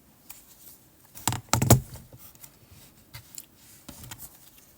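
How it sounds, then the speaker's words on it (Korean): Keys on a computer keyboard clatter in a short, close burst of quick clicks, followed by a few faint scattered taps in an otherwise quiet room. "키보드를 쓰는데요."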